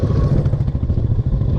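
A Royal Enfield Himalayan motorcycle rides along a road, its engine giving a steady, close, rumbling thrum with slight clattering texture, with no talking.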